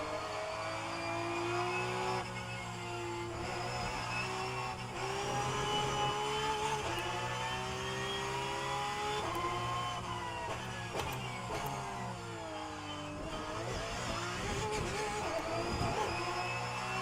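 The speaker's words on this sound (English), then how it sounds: "Beautiful Porsche sound." Porsche race car engine in rFactor 2, a loud continuous high-pitched howl rising and falling through gear changes and revs, close and unbroken with no talking.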